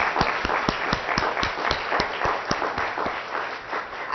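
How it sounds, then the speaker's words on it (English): A crowd at an early childhood education summit in Boston applauds steadily, many hands clapping together in a dense, continuous patter with a few sharper claps nearer by, slightly dull and muffled in tone. "join me in a round of applause thanking you for all your hard effort"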